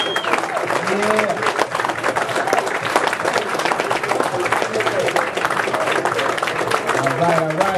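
A live audience at a Cotton City event applauds and cheers for a speaker, dense clapping and crowd noise running steadily throughout, with a voice calling out over it.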